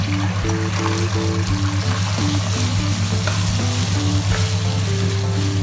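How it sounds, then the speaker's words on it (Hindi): Rice for sweet zarda added a little at a time to a pan on low flame and stirred, loud steady frying sizzle with scraping stir strokes and a constant low hum underneath. "ये चावल जो है हम थोड़े थोड़े करके डालेंगे और चूल्हा हम स्लो कर देंगे"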